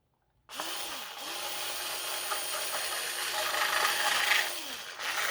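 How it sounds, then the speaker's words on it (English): A power drill bores a hole through the back panel of a kitchen cabinet, a steady close whir running nearly continuously after a sudden start, rising slightly in strain toward the end. "So I'm going to drill my hole."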